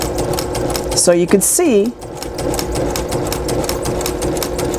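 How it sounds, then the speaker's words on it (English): Sewing machine stitching quilt fabric pieces at a quarter-inch seam, a steady rapid mechanical whir running throughout under a brief spoken phrase. "I am sewing exactly at 1/4 of an inch"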